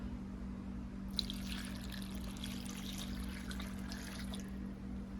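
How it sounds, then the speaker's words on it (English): Three cups of water pour into a soup pot for vegetable cheese soup, a soft trickling splash starting after a moment of quiet hum and running steadily to the end. "To this, I'm gonna add 3 cups of water."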